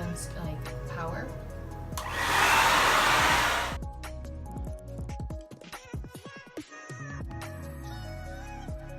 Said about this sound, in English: I will go in again with my blow dryer. And so this time I'll go in with full heat